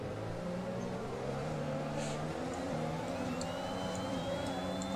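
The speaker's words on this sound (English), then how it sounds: "That was a hell of a drift." Red Bull Formula 1 car drifting in the F1 2021 video game at the Japanese Grand Prix: a steady, fairly quiet high-pitched engine whine with shifting tones and rising pitch sweeps, no voices.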